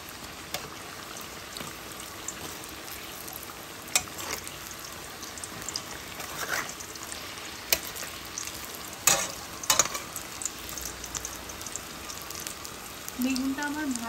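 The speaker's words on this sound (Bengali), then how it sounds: "বেগুনটাকে একটু উল্টিয়ে দিচ্ছি" Eggplant slices fry in oil for Bengali shukto and are flipped in the pan. A soft continuous sizzle runs beneath sharp clicks and scrapes of a spatula turning the pieces, with a few louder clattering knocks near the middle.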